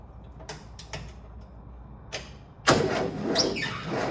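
A VW buggy with a stroker engine cranks over in short, close bursts, with a few clicks at first and then a louder, sustained churning turnover near the end.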